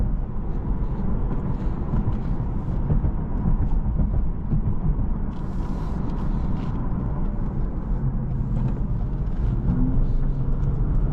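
A 2025 Lexus IS 350 F Sport Design on a test drive gives a constant, loud low rumble of engine and road noise from inside the cabin. It holds steady throughout without any clear rise in pitch.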